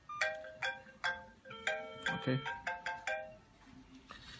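A children's GPS locator wristwatch rings with an electronic ringtone for an incoming call, a bright repeating melodic pattern of short tones played several times close by, with a brief spoken word near the end.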